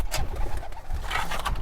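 Domestic pigeons cooing at a backyard loft, soft low throaty coos repeating close by over a faint steady background, with no voices.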